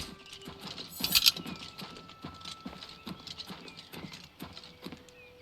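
Horse hooves clip-clop at a steady trot in the fantasy video game Oblivion, a continuous close rhythmic patter with a short neigh-like squeal near the start and no speech.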